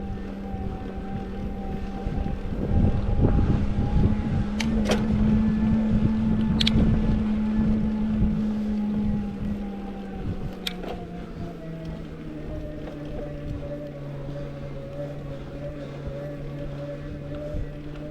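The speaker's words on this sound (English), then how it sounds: "I'll let you listen to the motor now so you can hear the difference between pedaling and throttle" A SixThreeZero EVRYjourney 500w cruiser e-bike motor whines steadily under throttle while climbing a steep hill, its pitch holding then dropping slightly, with wind rushing over the microphone.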